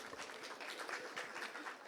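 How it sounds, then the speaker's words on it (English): An audience applauds for a speaker at a corporate training event, with steady dense clapping that holds at an even level throughout the short burst. "Can we have a big round of applause for Mr. Pankaj?"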